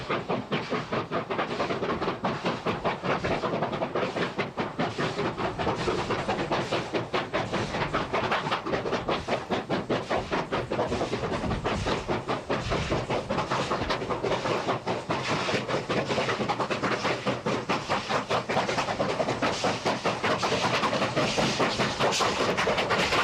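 A pair of Chinese QJ class steam locomotives based at Zhongwei running, giving a steady, loud rumble with dense rhythmic clatter and hiss throughout, no speech.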